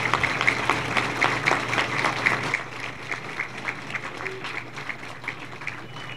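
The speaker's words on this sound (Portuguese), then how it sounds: "uma salva de palmas bem forte ao Senhor nosso Deus" A crowd at an anniversary session in Cacoal claps loudly and rhythmically, then the applause thins and softens toward the end.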